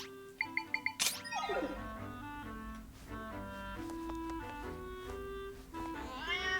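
A cat in Zelda: Echoes of Wisdom gives a series of meows, a few short chirps, then longer warbling mews with a brief rising trill, close and clear over soft game background tones, no voices.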